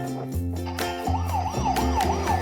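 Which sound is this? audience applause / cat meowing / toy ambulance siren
toy ambulance siren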